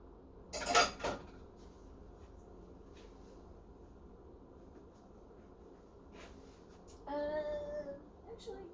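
Dishes being loaded into a dishwasher make a sharp ceramic clatter early on, then sparse faint clinks and rattles follow, with a brief burst of speech near the end.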